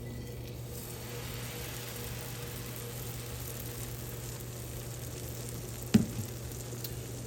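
Strawberry pancake batter sizzles softly on a hot griddle, a quiet, even frying hiss with one brief sharp clack near the end.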